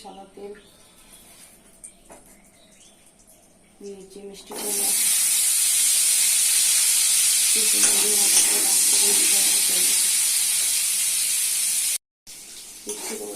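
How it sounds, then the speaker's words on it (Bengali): Vegetables hit hot soybean oil in a pan and burst into a loud, steady sizzle that carries on for several seconds, while someone talks quietly before and under it. "সবিন অয়েল দিচ্ছি ছোট তেতো বলে ভেজে নিতে হবে তেলে"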